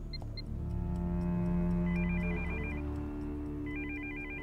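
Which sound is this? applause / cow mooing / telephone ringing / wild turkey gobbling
telephone ringing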